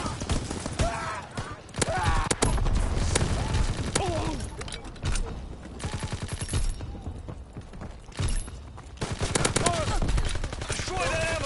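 Type 100 submachine gun fire in Call of Duty WWII multiplayer comes in rapid, crackling bursts with scattered battlefield explosions and other gunfire, some game voice callouts mixed in, loud and dense throughout.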